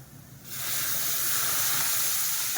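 Jaggery, a big bowlful, drops into a hot pan for ginger sweet drops and bursts into a loud, steady sizzle and hiss that starts abruptly and holds without pause.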